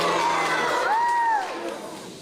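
Children at a school quiz cheer and shout in a brief burst, voices rising together and then fading quickly into a quieter room.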